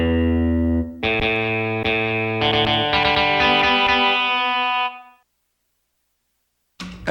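Guitar chords strummed from a controller in a Rock Band game ring out with an effected, slightly distorted tone, several strums over about five seconds before silence and a short final burst.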